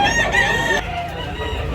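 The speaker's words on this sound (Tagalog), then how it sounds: "Gandang manok." A loud rooster crow sounds close by, sharp and sustained for most of a second, then fades into a rougher, lower tail.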